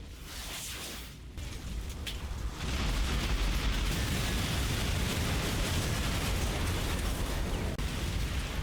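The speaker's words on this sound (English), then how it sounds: "The artillery mortars hit the German approach on the right." Heavy mortar artillery barrage in the WWII strategy game Combat Mission Final Blitzkrieg, a dense, continuous roar of explosions and rumbling debris that swells louder after a couple of seconds and stays sustained.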